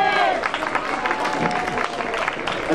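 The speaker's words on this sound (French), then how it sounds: "Vous applaudir bien fort." Crowd applause and cheering at an outdoor Belgian national day festival in Athus, greeting a singer; a steady, dense wash of clapping with voices mixed in, fairly close and loud throughout.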